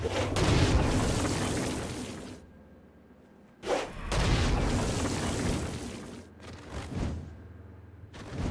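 Stone Blast explosions in a demon-fighting video game, several loud booming bursts with whooshing tails separated by short quieter gaps, no speech.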